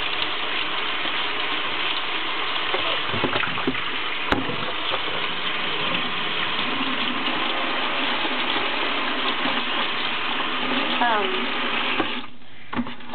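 Warm water runs steadily from a tap for several seconds while shoes are washed, a continuous close splashing rush with faint clicks and handling noises, stopping near the end.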